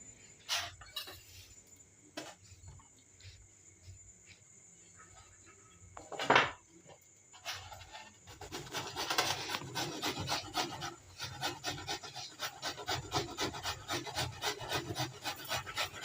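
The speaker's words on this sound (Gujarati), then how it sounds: "હવે આપણે કોબીટને સૌ પ્રથમ પહેલાં કોબીટને છીણી લઈશું" Cabbage is grated by hand, first a few scattered knocks and scrapes, then a steady run of quick rhythmic rasping strokes, close and fairly soft.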